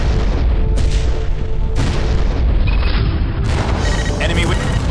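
The Aquilae ship exploding in the Freespace space combat video game, heard as a loud, sustained rumbling boom with layered blasts that rises again partway through, alongside radio-style voices.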